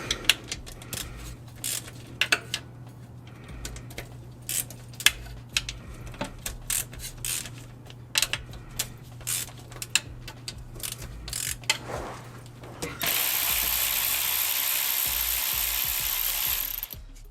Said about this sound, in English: I'm going to be removing these 10mm bolts from along the pan, and then we'll pry the pan off.